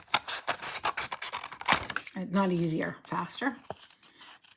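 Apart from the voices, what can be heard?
scissors cutting out paper for a handmade card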